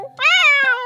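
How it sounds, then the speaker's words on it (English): A small cat, a kitty, gives one clear, close meow that is short and rising. "Come with me, little kitty."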